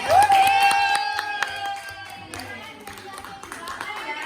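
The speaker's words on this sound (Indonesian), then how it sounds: "Tepuk tangan" Children clapping hands in a classroom, a burst of scattered claps amid tonal, voice-like sounds, loud at the start and thinning out toward the end.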